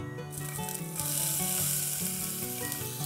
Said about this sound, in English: Just going to saute this till the onions get softened.